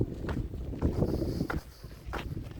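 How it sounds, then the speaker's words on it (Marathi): Wind gusts near a hilltop on the way up to Navi Jejuri in rough, low bursts of rumbling microphone buffeting, loud and uneven, with no talk. "काय वारा येतोय"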